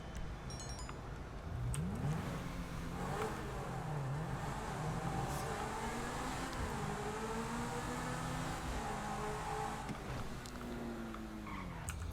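A spawned vehicle's engine revs and whines in GTA V, its pitch sweeping up and down in repeated rises across the stretch, with tire skids and a faint siren-like tone mixed into the steady game soundscape.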